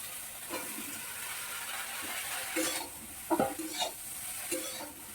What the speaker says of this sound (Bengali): চলো ফুলকপি একে একে ভেজে নিই